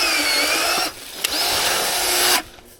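A Ryobi electric lopper cuts through tree branches, its motor whining in two sustained bursts separated by a short quiet gap, with a sharp snap in between, close by.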